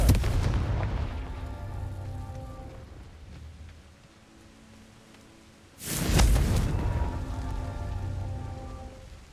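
A Confringo fire spell blasts in Hogwarts Legacy with a sudden loud, roaring burst that swells and then rumbles away, following a rushing noisy opening and a quieter stretch between.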